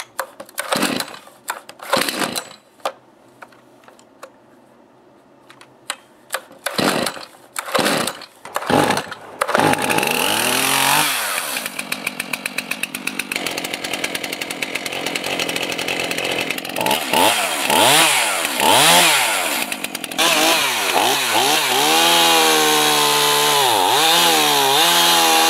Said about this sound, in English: I'm going to start it up and I'm going to test it out in some logs that I have here